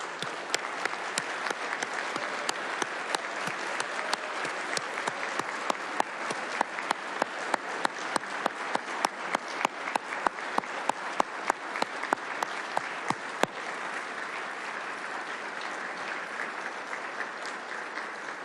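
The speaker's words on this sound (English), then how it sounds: "We'd like to give you a big, big round of applause." A city council chamber audience gives a long, sustained round of applause for police officers, dense steady clapping from a sizable crowd with sharp individual claps standing out, lasting throughout.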